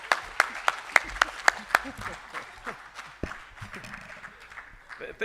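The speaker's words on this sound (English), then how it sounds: "Can you clap for us?" Audience applause at an education conference starts with a few loud, evenly spaced claps and then settles into lighter, scattered clapping mixed with murmuring voices.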